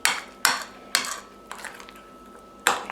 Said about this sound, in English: get all the shallots in and mix in a bit of the cream cheese